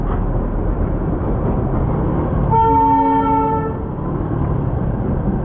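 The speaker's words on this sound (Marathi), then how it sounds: "पाहू शकता ही टॉय ट्रेन" The Darjeeling toy train gives steady rumbling noise with a short, clear horn toot in the middle, fading back to the running rattle.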